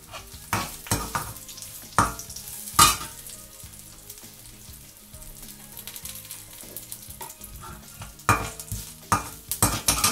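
Ground spice paste stirred and fried into a Malvani tomato saar, a low simmering sizzle punctuated by loud, irregular spoon scrapes and clanks against the pot.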